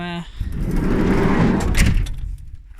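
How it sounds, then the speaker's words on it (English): Sliding side door on a Monaco motorhome with a bit of rust along its bottom edge rolls open in one long, smooth, loud rumble lasting a couple of seconds, ending in a soft stop. "Sliding door. Again, slides really nice."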